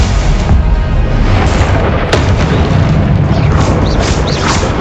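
Confringo fire spell explosions in Hogwarts Legacy, heard as a sustained loud, dense rumbling blast with a sharp crack midway and fizzing magical bursts, continuous with no talking.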